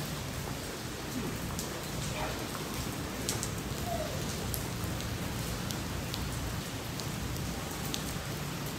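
Steady rain falls in Singapore, a dense continuous hiss of drops on surfaces with scattered sharper patters, moderately faint and with no voices.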